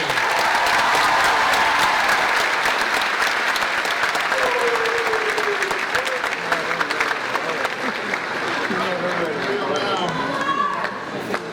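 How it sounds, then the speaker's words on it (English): Audience applause at a high school graduation ceremony, sustained clapping from a large crowd that gradually thins while a voice speaks over it near the end. "Give them a round of applause for coming this evening."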